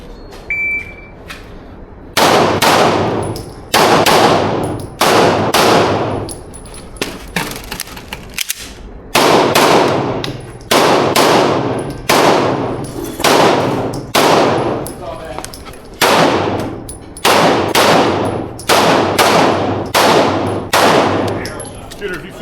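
Pistol shots ringing off steel targets at a practical shooting match, loud sharp reports in rapid strings of several shots with short pauses between bursts, each followed by a metallic clang.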